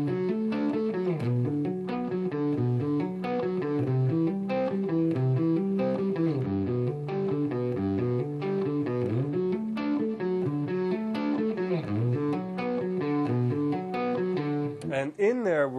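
Slow, clean electric guitar arpeggios with picked notes and hammer-ons, played as an even, steady stream of ringing harmonic notes, close and loud, with no talking.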